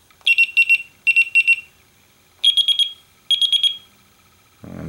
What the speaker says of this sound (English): This is a rather annoying one.